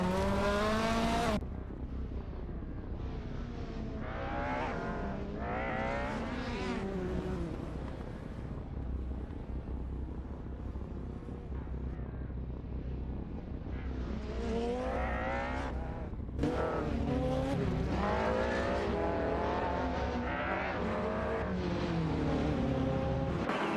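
Race cars in an AI racing video game, engines droning and revving continuously with rising and falling pitch sweeps, a steady loud mechanical roar throughout.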